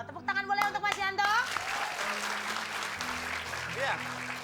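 Studio audience applause on an Indonesian television game show, a broad wash of clapping that swells at the start and keeps going steadily under a host's voice and background music.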